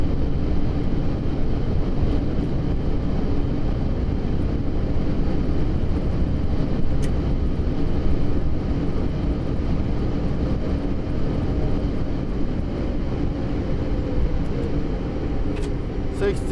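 A Boeing 747-8 cargo jet on landing rollout at Jeddah with reverse thrust, heard from inside as a loud, steady low roar and rumble that holds throughout without letting up.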